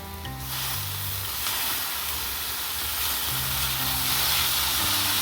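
Tomatoes hitting hot oil in a pan with softened capsicum and carrot, giving a loud, steady sizzle and hiss that continues throughout with no talking.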